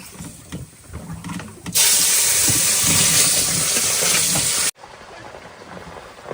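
Fish frying in a pan of hot oil. A loud, steady sizzle bursts in suddenly, holds for about three seconds, then cuts off abruptly, with quieter kitchen noise before and after.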